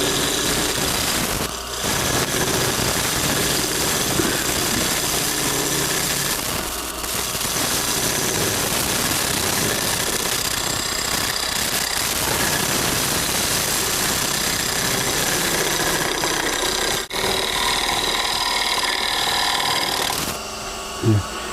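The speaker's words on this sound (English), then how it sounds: "Then you turn the lathe on" A lathe runs steadily for shear scraping a metal workpiece, a continuous close machine drone with a few brief dips and a short break near the end.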